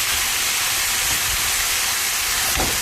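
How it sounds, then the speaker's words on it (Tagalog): Beef fries in a pan for a beef stew, giving a continuous, even sizzle and hiss close to the pan, with no voices heard. "Piniprito po natin yung ating beef"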